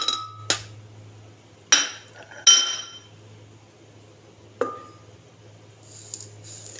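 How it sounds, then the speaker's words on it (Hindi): Plums are dropped into a juicer jar, giving a handful of sharp, separate clinks against the jar with quiet pauses between them. "सबसे पहले जूसर में हम लोग ये आलू बुखारा डालेंगे"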